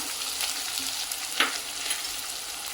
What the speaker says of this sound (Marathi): छान परतून घ्यायचं त्यामध्ये घालूया हळद